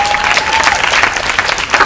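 A crowd at a Black Lives Matter 100th-day celebration gathering on the Upper East Side erupts in loud, sustained cheering and applause, with whoops rising above steady clapping throughout.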